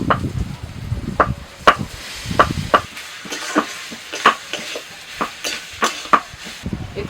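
Grated paneer stirred into fried spice masala in a pan for potol dolma filling: repeated scraping strokes of a spatula with a faint sizzle, about a dozen rhythmic scrapes, close and clear with no talk.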